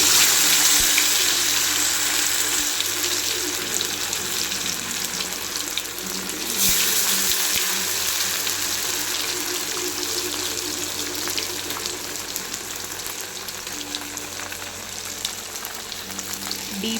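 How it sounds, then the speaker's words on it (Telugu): Fish pieces deep frying in hot oil for a Telangana-style fry, a loud, continuous, close sizzle and crackle with a brief surge partway through. "ఇప్పుడు దీంట్లో ఈ ఫిష్ని ఒక్కొక్కటిగా వేసి మంచిగా వేయించుకోవాలి."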